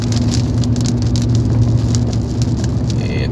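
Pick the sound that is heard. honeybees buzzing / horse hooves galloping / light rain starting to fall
light rain starting to fall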